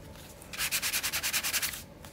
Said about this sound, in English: I'm just gonna sand just the edges here